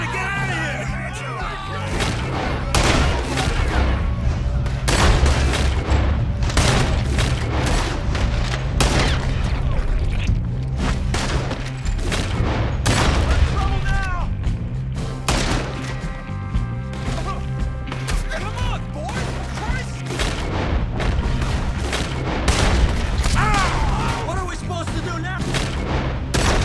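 Rapid gunfire in a Red Dead Redemption 2 shootout: repeated loud booming shots and volleys, close and dense, over a steady rumble with shouted voices mixed in.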